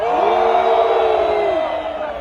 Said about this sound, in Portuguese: O grito dos homens.